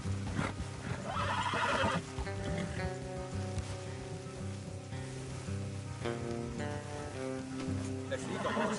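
Horses gallop and neigh in a cowboy video game, with steady hoofbeats and repeated whinnies over sustained music and ambient sound, loud and close throughout.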